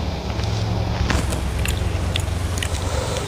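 Close-up chewing of spicy stir-fried squid with petai beans and egg, with soft wet mastication and scattered crisp bites and clicks over a steady low background hum.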